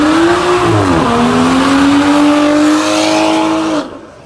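A car spinning its wheels at a car meet, a loud sustained tire squeal wavering in pitch over a revving engine, close and continuous for several seconds before cutting off abruptly.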